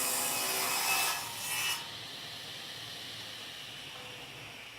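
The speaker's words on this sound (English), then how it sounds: "back to the table saw to cut it to the width that he needs" A table saw rips a wooden board to width at a sawmill: a brief, loud burst of cutting noise, then a steady motor hiss as the blade spins on. No one speaks.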